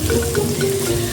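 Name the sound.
water being added to the cooking pan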